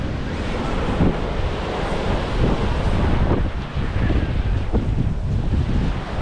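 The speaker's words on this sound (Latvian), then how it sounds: "bet šodien ir smuka viļņi." Sea waves and strong wind at a beach near Klaipėda, with continuous surf washing in under heavy gusts buffeting the microphone, steady and loud throughout, no voices.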